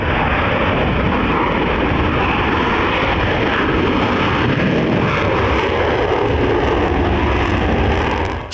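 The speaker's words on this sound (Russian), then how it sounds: "Стремительный разбег и двухместный всепогодный истребитель-перехватчик МиГ-31 взмывает ввысь." MiG-31 two-seat all-weather interceptor jet taking off from an air base, a loud, continuous roaring engine blast that fills the whole stretch with broadband thunder and steady intensity.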